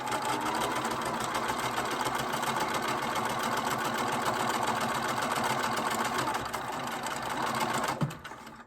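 A domestic sewing machine stitches a pennant seam at a steady, continuous whir, running close and even for several seconds before stopping abruptly near the end with a brief clunk.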